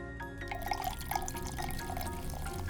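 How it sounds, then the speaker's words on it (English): Soda water poured over crushed ice in a julep cocktail, giving a steady fizzing, trickling pour with light clinks and drips throughout, fairly close and not loud. "Then we're gonna put some soda water."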